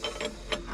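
Bent 22 mm wrench working a bolt on a Mercedes CL600 V12, a few quick ratcheting clicks close up, faint and brief.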